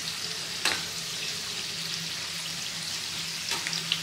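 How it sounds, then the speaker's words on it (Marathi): Mini samosas deep fry in hot oil with a steady, close sizzle and crackle, and two brief louder bursts come as the samosas are stirred. "आता हे समोसे मस्त आपल्याला कुरकुरीत होईपर्यंत तळून घ्यायचे आहेत"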